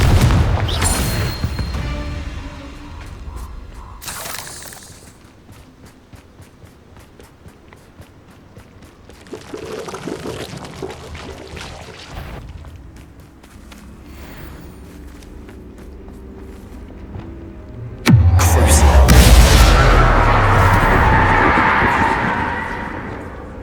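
Confringo spells fire in Hogwarts Legacy as several sharp blasts spaced seconds apart, the last the loudest with a crackling fiery burst, between quieter stretches of footsteps and ambient game sound.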